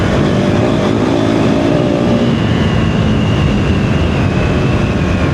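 A KTM 390 Enduro R motorcycle riding off-road on an unfamiliar dirt road, giving a steady, loud engine drone mixed with constant wind and road rumble, with no break in the noise.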